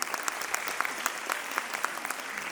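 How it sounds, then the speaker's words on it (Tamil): An audience applauds in a hall, with sustained clapping and distinct individual claps standing out, moderately distant and fairly quiet. "ஒரு கரகோஷம் மூலம் நீங்கள் அதை வெளிப்படுத்தலாம்"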